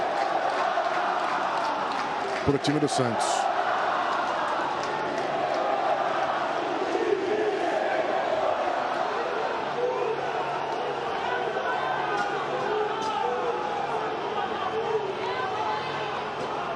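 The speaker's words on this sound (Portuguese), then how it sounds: "E agora a torcida grita time sem vergonha" Football crowd noise rolls steadily from a large body of supporters chanting insults at the Santos team, a dense continuous roar with a few brief sharper shouts, heard under a commentator's talk throughout.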